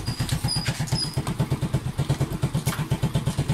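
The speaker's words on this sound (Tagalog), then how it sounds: "ang motorcycle ko umaandar pa rin" A motorcycle engine keeps running after its ignition switch is turned off, bypassed by a fingerprint anti-theft device. It gives a steady, close, rhythmic idle putter with even pulses throughout.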